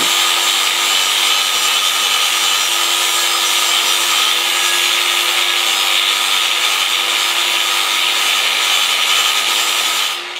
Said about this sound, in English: Then we can finish up our grind work before we heat treat.